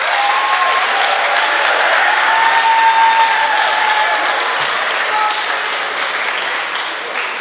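Steady audience applause welcomes a speaking contest contestant, a dense wash of clapping from a crowd that holds for several seconds before slowly tapering.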